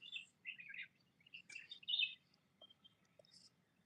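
Outdoor birds, including doves, give short, bright chirps and twitters in scattered bursts over a quiet open landscape, faint and fairly close, with no voices.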